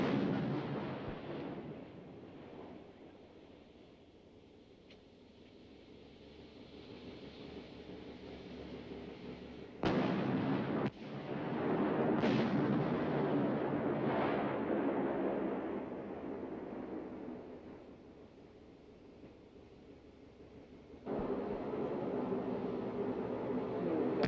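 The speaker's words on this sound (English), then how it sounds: "During the first part of the exercise, the tanks fire in turn from stationary positions." Battle tanks fire their main guns in turn from stationary positions at a training range, sharp distant booms followed by long rumbling rolls and reverberation, with no talk.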